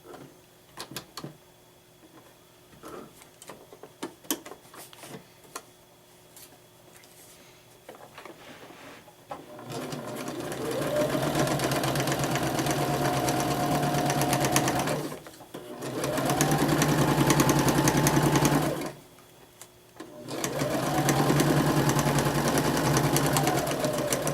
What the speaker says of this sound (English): you're just going to be sewing right alongside the edge of the paper all the way through through the point